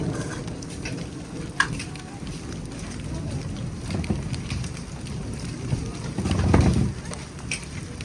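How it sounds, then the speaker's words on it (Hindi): Heavy rain pours steadily outside a house, a dense, constant hiss and patter with low rumbling gusts and a few sharper knocks and splashes, fairly loud and continuous throughout. "बारिश ज़्यादा हो रही है।"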